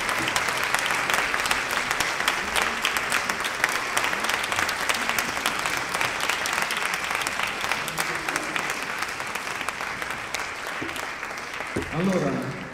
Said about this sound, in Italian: la signora Giovanna Masola, accogliamo con un grande applauso.